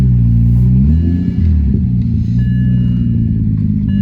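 A BMW 335i with a manual transmission swap runs and drives, its engine giving a deep, loud rumble with the pitch shifting as it accelerates and changes gear, heard from inside the car.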